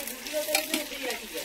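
Vegetables such as brinjal, potato and okra fry in a pan, giving a continuous close sizzle with occasional scraping stirs and light crackles throughout.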